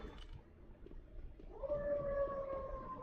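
A siren wails faintly in the distance, rising into a steady tonal whine over low background rumble and game sounds.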